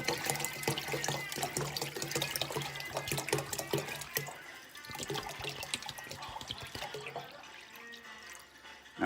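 A full gallon of liquid for homemade hand soap pours steadily into a pot, a loud continuous splashing rush that thins out near the end, with no talking.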